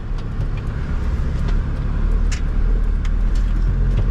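A car drives along the road toward a shop, heard from inside as a loud, continuous low road rumble with scattered light ticks and rattles and no talking.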